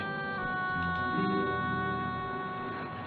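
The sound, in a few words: ambulance siren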